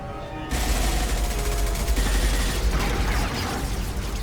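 Gunfire in the video game Mass Effect 2 starts abruptly as a loud, dense fusillade of rapid automatic shots with mechanical clatter, sustained for several seconds close up.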